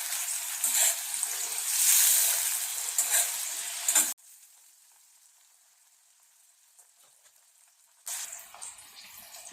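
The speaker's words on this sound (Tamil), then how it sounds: "நல்லா வதக்கிடலாம்." Capsicum sautéing in hot oil in a pan for a traditional pickle gives a fairly loud sizzle with stirring for about four seconds, then drops to a faint hiss before the sizzling rises again near the end.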